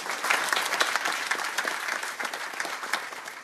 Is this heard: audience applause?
yes